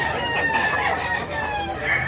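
A rooster crows loudly and close by. It is the red-plumaged, yellow-legged kind of fighting cock sold at a poultry stall. The crow is mixed with nearby clucking and some faint background voices.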